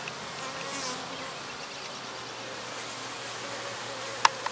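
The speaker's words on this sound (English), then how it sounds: "The new box that I got from Derek at 86 Off-Road was jam-packed with bees." Honeybees buzz steadily around a newly installed off-road beehive, a dense continuous drone heard from close by, with a couple of brief clicks near the end and no talk.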